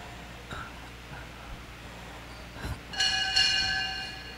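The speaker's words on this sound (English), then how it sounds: "Pwedeng pa isang kampana nga dyan." A boxing ring bell at an exhibition boxing event rings out in a couple of bright metallic strikes with a lingering resonant tail, preceded by soft thumps and faint background noise.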